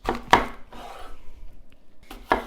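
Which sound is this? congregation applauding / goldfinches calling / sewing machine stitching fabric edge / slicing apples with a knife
slicing apples with a knife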